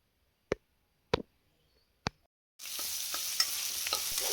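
Three sharp, isolated clacks ring out in near silence before a steady frying hiss starts up as cloves, onions, garlic and ginger hit the hot pan, with faint stirring scrapes under the close, continuous sizzle.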